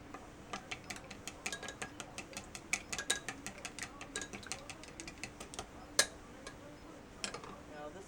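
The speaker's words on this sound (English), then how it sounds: "And then you want to mix that up pretty well." Eggs and sugar beaten together in a bowl for tamagoyaki, a steady run of light, rapid clicking taps against the bowl, fairly quiet and close.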